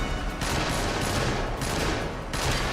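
Rapid bursts of gunfire from the TV drama Doctor Who come in three or four loud volleys of overlapping shots, each cut off abruptly, with no talk.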